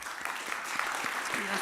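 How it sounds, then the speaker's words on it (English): A brief, steady patter of audience applause at a high school speech association gathering, with voices talking through it. "I want you to give her a round of applause for the incredible job she does"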